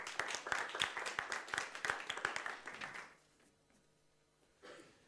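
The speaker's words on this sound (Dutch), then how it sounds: "geef hem een hartelijk applaus" An audience in a Dutch talk-show hall gives a short burst of warm applause, dense clapping for about three seconds that stops abruptly, followed by quiet room tone and a soft shuffle near the end.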